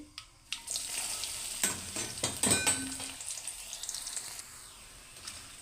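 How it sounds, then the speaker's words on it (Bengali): Chopped onion and garlic dropped into hot oil with bay leaf, dried chili, nigella and mustard seeds, a burst of sizzling followed by uneven stirring clatter that fades quieter, no voices. "এখন দেবো আমি এখানে পেঁয়াজ আর রসুন কুচি।"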